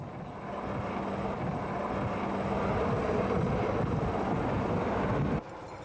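A navy helicopter hovers over the sea during a rescue, heard as a steady, loud rotor and engine roar that stays constant and then drops off sharply near the end.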